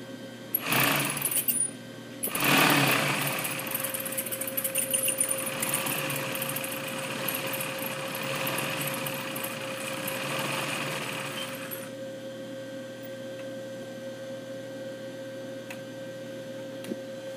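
A sewing machine runs continuously to wind the bobbin, with the presser foot raised: a steady close motor whir with a faint tonal hum, louder at the start after a couple of brief bursts, then settling into an even drone before cutting to quiet hum.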